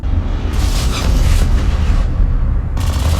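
Spaceship weapons fire in a space battle from The Expanse, heavy booming blasts and roaring bursts that rumble continuously with sharp surges, loud and dense.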